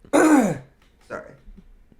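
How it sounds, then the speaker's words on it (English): One person clears their throat with a forceful rasping burst, followed by a softer second rasp and faint breathing in a quiet room. "Had to clear my throat hole."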